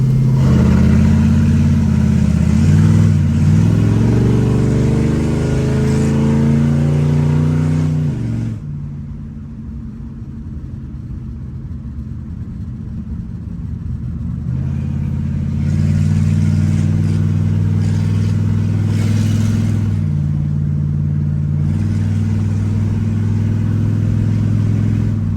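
A 1969 Chevrolet Chevelle with a 396 V8 revs hard through its exhaust with a loud, steady growl. It dips to a lower idle midway, then climbs back up. No one speaks.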